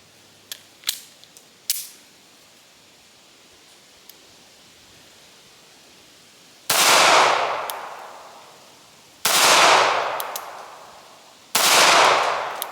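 Pistol shots ring out outdoors: a few quick sharp cracks early on, then three loud separate reports, each with a long rolling echo tail and quiet gaps between them.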